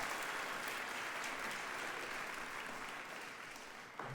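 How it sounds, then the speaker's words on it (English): Steady, dense audience applause fills a Full Sail University Hall of Fame induction ceremony, holding at an even level throughout before easing slightly near the end. "I'd like to just first give a round of applause for Platinum and the whole Full Sail team."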